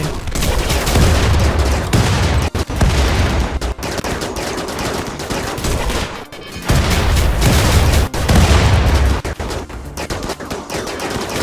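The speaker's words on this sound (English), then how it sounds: "I just heard a triple rocket" Heavy explosions and rapid weapon fire in a RimWorld (RiftWorld mod) battle, including a triple rocket blast, forming a loud, dense, nearly continuous barrage with brief dips, no talk.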